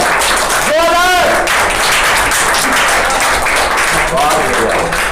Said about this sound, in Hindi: जोरदार तालियां हिमांशु के लिए गाइस, जोरदार।